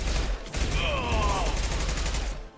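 Sustained crackling gunfire fills a Mass Effect 2 firefight, a steady close barrage with a brief voice-like tone over it and a short break near the middle.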